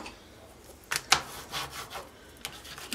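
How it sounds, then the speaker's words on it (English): Bone folder rubbed firmly over a craft surface, a few short scraping strokes, quiet and close, with brief separate rubs and no talking. "I'm gonna use my bone folder."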